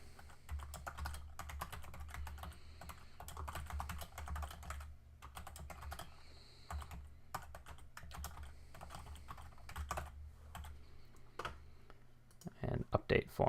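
Steady typing on a computer keyboard while entering a short message into a web form, continuous soft key clicks running through most of the clip with a few louder taps near the end.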